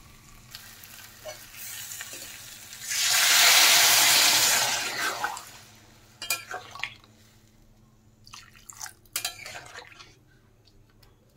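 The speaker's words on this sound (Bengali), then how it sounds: "এখন আমি জল দিয়ে দেব।" Water pours into a hot pan of browned egg and potato curry, setting off a loud burst of sizzling for about three seconds that fades to soft stirring and clinks of a spoon against the pan.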